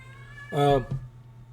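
A domestic cat gives one drawn-out, harmonic meow close by, rising and falling briefly over a low steady hum, followed by a short faint second chirp.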